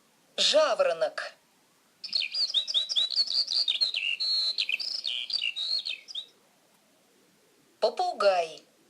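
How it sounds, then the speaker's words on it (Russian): Skylark song: a long, rapid stream of high, warbling trills and chirps lasting several seconds, clear and fairly close, with a voice speaking briefly before and after it. "Жаворонок."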